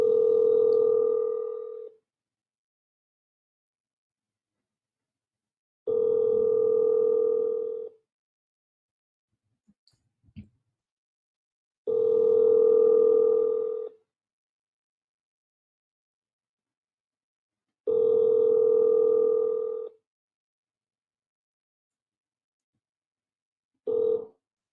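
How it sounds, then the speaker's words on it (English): A phone ringback tone heard down the line sounds four times in long, even bursts, each about two seconds with roughly four-second silences between them, plus a brief fifth burst cut short at the end. "Let me know if you guys can hear the phone ringing also."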